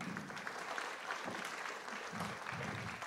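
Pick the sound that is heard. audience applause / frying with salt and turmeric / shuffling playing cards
audience applause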